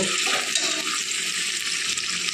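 Half-boiled chicken fries in hot oil for a chicken cashew curry, a loud, close, continuous hiss and crackle of sizzling with faint stirring and no voices.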